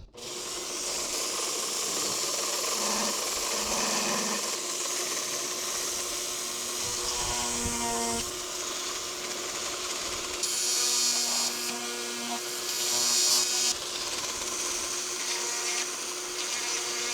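A power tool whines and grinds as it elongates holes in a cracked plastic truck topper skirt, running steadily with pitch changes and brief pauses, close by and without speech.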